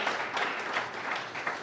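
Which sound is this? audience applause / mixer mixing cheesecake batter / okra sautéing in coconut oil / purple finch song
audience applause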